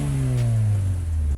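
Stock single-cam Honda Civic EG with a Yonaka catback exhaust revving, a deep loud engine tone easing down in pitch before cutting off abruptly.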